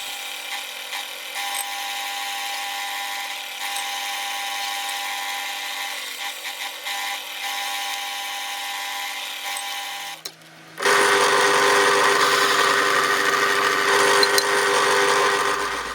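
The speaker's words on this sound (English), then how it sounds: "So, the wheels seem to run pretty good, pretty true." An old bandsaw converted into a 1x42 belt sander/grinder runs its wheels with a steady mechanical whir and hum, briefly dipping before restarting louder and harsher, alone with no talk.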